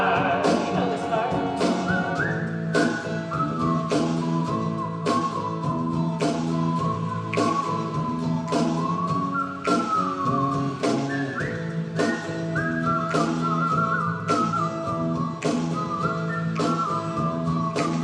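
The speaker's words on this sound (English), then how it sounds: "There's some good whistlers in this group." Audience at a Letters From Home live performance whistling along to a song's melody, a steady sustained whistled tune running throughout with rhythmic instrumental backing.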